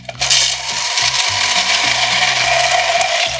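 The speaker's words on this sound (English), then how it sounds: "This is a vintage Hamilton Beach mixer" Vintage 1940s-style Hamilton Beach drink mixer blending about one and a half scoops of ice with cocktail ingredients, a loud steady whirring motor with a rattling, grinding churn of ice running continuously from just after the start.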